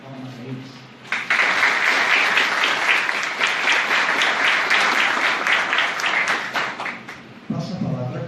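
An audience at a public bar association session (OAB) breaks into sustained applause for the members of the commission, dense clapping lasting about six seconds before it stops, with brief speech just before and after.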